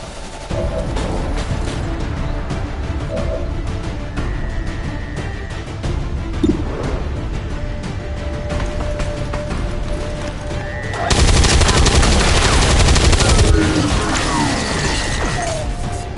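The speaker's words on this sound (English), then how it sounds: "Incoming fire!" Gunfire in the tactical video game XCOM 2, with dense continuous shooting, shattering glass and mechanical clatter that swells into a louder burst of fire and smashing near the end.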